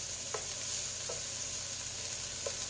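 Peas and carrots frying with browning onions in a pan for fried rice, a steady soft sizzle with a few light spoon taps as they are stirred, no talk.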